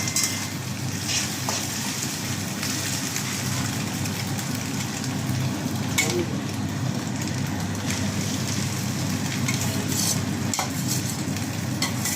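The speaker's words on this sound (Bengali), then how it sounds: "আর একটু তেল দিলাম, তেলটা কম হয়ে গেছে। এরপর আমি চাউমিনটা দিয়ে দেবো।" Chow mein stir-fries in hot oil in a pan, a loud, steady sizzle with constant stirring and scraping throughout, and no talking.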